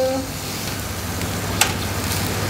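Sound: honey-grilled beef ribs bubbling and sizzling

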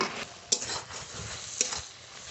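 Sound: ridge gourd frying and being stirred to dry the water

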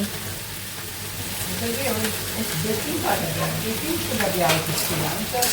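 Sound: chicken frying and being stirred with spices in a pan

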